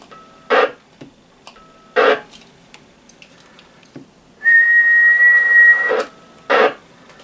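Several short whistled bursts picked up through a radio microphone during a transmitter power test, followed by a longer steady whistled tone lasting about a second and a half, then another brief burst, clear and close.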